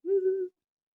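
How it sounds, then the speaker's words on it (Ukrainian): One short, low, hooting bird call, clear and sustained for about half a second, followed by silence. "Пташки співають"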